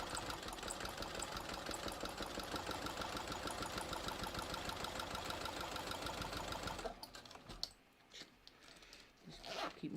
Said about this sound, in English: I'm just gonna sew along the other fold.